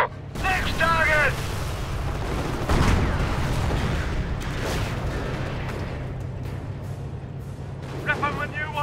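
Cannon blasts and gunfire from Company of Heroes, set at Villers-Bocage with a Tiger tank, rumble under a continuous battle din while soldiers shout.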